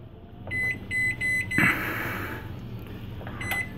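Oven control panel beeping while the baking temperature is set, a run of short bright electronic beeps in quick succession, close and fairly loud, then a rustle and a couple more beeps near the end.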